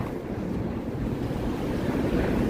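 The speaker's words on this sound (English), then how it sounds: "We got some wind here." Gusty wind blowing along the Chicago Riverwalk downtown, a steady, loud rushing roar that buffets the microphone throughout, with no voices.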